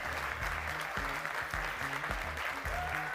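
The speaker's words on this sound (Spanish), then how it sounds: "Fuerte el aplauso para Diego Viñolo" An audience applauds Diego Viñolo with sustained, dense clapping. Musical tones play underneath the whole time.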